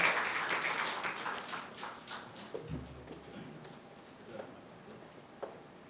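Applause at an academic philosophy lecture session, fairly quiet and distant, starts as brisk clapping from a modest audience, then thins into scattered claps and dies away.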